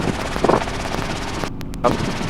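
A training helicopter in flight, its rotor thumping and engine whine loud and continuous from inside the cabin, with one brief dropout partway through.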